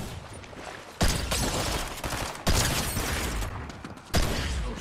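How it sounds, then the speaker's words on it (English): Three sharp, loud shotgun blasts in Fortnite, spaced about a second and a half apart, each a sudden crack followed by a dense crackling wash of game noise. "this guy's about to take a shotgun bullet to the face"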